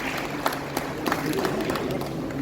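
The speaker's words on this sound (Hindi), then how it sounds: "जोरदार तालियों से स्वागत हो जाए।" Audience applause at a technical college alumni meet honouring former teachers, principals and students: a steady, dense wash of clapping from a large indoor crowd, with a few sharper individual claps standing out.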